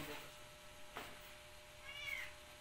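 A cat meows faintly indoors during a family house move, two soft cries against a quiet room background with household noise.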